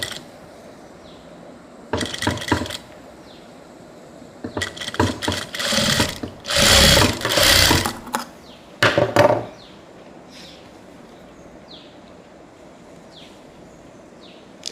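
A sewing machine stitches a modal-style blouse neckline in short separate bursts of rapid mechanical whirring and clatter, with quiet pauses between the runs and no voices.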